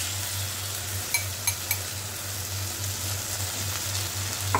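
Gobindobhog rice being stirred with spices in a pan, a low steady sizzle under a constant hum, with a few light clinks of a spoon against the pan.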